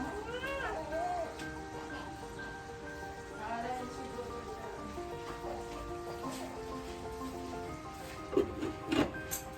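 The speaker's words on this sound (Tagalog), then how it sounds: "May ginagaya ka ng pusa." A cat meows several times, rising and falling cries spread across the stretch, over soft background noise and a few sharp rustles near the end.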